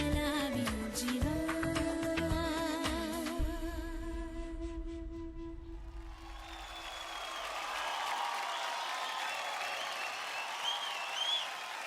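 At a televised dance competition, music from the dance performance plays for the first half and then fades out. Warm, steady audience applause rises and continues at moderate volume to the end.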